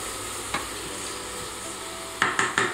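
Coarsely cut fennel and celery cook over medium heat in melted fat in a pan, giving a soft, steady sizzle close by, with a few sharper clinks of stirring toward the end.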